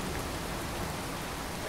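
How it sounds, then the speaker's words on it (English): Steady, heavy rain pours down at Finch Farm in the Fallout 4 game world, a dense unbroken hiss with no break across the short stretch. "and it's typically pissing down rain"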